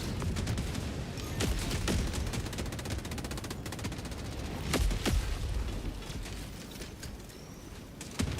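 Bursts of automatic gunfire crackle through a video game battle, sharp repeated shots in clusters over a busy background, with a few louder cracks standing out near the middle.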